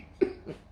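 A single short, close cough, sharp and fairly soft, with a small second puff following, against a quiet room background.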